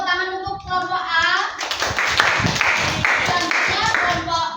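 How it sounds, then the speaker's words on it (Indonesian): Children in a classroom clap for group A as a short spell of quick, lively claps. It follows a sustained voice and mixes with children's chatter. "tepuk tangan untuk kelompok A"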